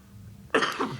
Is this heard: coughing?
yes